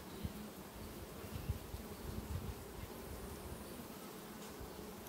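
Bees buzz over a frame lifted from a hive colony whose queen may need replacing, a steady low drone with no talk.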